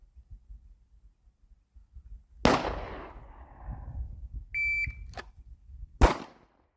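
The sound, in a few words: shot timer beep signaling start of shooting drill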